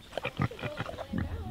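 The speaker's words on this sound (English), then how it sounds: "Nothing like a little pig, huh? Adorable." A small pig grunts and oinks in a quick series of short snorts, close by, with a bit of faint background noise.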